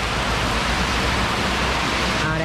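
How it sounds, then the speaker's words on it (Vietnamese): Heavy rain pours down steadily during a night motorbike trip toward Bao Loc, a dense, loud, unbroken hiss of water filling the whole moment with no pauses. "bây giờ tình hình là mưa quá mưa rồi"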